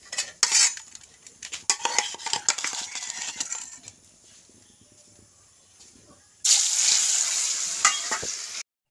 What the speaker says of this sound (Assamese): মাছখিনি ধুনীয়াকৈ ভাজি লওঁ।